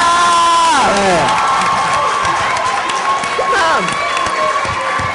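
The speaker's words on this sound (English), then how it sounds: "give her a big round of applause for Tanisha" An audience at a Congressional Black Caucus Braintrust session cheers, whoops and applauds loudly for a young performer named Tanisha, a dense crowd roar with shouting voices throughout and a person calling out over it.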